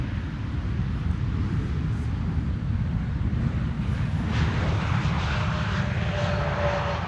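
An airplane coming in to land at Amsterdam Schiphol Airport, its engines making a steady, loud rumbling roar that holds throughout, with a faint thin whine rising near the end.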